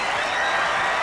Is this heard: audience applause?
yes